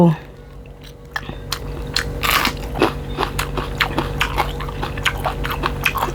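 Crunchy bites into a grilled Thai screw chili pepper, a quick run of sharp crackling crunches followed by steady close chewing, loud and near with no talk over it.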